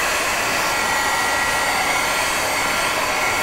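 A heat tool blows hot air continuously to dry a surface, a loud, steady close-up whoosh with no talking.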